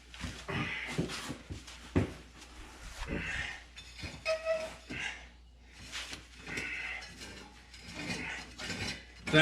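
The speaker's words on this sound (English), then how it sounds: "I'm using the drive pulley to drive the tiller forward." A drive pulley on an Economy Power King tractor turns to inch a tiller attachment forward, giving a steady mechanical whir with clanking, ratchet-like rattles and irregular knocks, fairly faint and close, with no talking.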